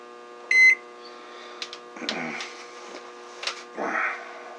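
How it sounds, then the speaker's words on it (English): Microwave oven giving a short high electronic beep, followed by a faint steady hum and scattered soft clatters and rustles nearby, with no talking. "Probably the microwave."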